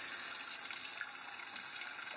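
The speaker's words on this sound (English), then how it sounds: "I am going to fill up this pot with water spewing off of that, a carton of orange juice" Water spews from an orange juice carton into a pot in a steady, hissing gush, close and continuous throughout.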